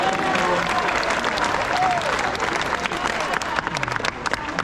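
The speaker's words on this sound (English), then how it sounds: "give him another clap" Audience at a tiger show at Dream World on the Gold Coast clapping loudly and steadily throughout, a dense crowd applause with a few scattered cheers and voices mixed in.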